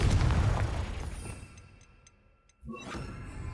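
A Confringo explosive spell from the Hogwarts Legacy video game bursts with a loud, rumbling blast that fades away over about two seconds, followed by a short sharp crack and a fresh burst of noise.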